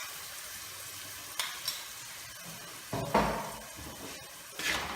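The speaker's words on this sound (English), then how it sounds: "Now I am going to put back to the pan with half teaspoon of oil and again saute for another 5 minutes" Curry ingredients for a coconut fish curry sauté in oil in a pan, with soft sizzling and a few louder bursts of stirring and spatula scrapes spread over the moment.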